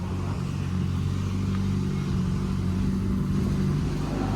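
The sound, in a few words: street car driving away from the dyno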